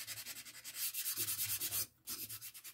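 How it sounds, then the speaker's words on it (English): A scrap-wood bandsaw box drawer is sanded by hand in quick back-and-forth strokes, a close rhythmic scratchy rasp that stops briefly near the end before resuming. "let's just pretend we're sanding one of the drawers."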